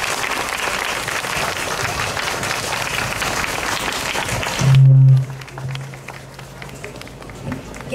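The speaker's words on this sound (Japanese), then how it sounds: "今一度大きな拍手をお願いいたします。" A large audience claps steadily and loudly at a Tokyo discussion event with Governor Yuriko Koike, a dense wash of applause that runs for several seconds before suddenly thinning out, with a low tone briefly over it.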